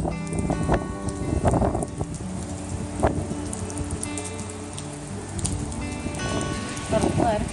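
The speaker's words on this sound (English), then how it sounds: "Soaking out here, and it's really windy." Steady rain patters on surfaces while gusts of wind rush past, with a voice talking now and then over the wet, blustery background.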